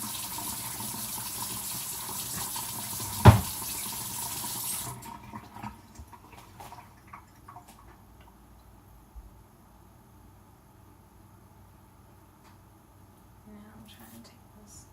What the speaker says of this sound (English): going to wash these real quick